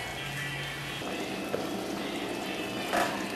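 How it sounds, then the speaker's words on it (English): Potato soup simmering in a covered pot, a low steady bubbling murmur with faint liquid gurgles and a couple of small clinks, close and quiet with no talking. "just cover it at this point and let those potatoes cook down"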